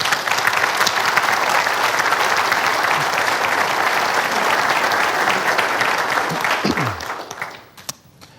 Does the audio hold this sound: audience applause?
yes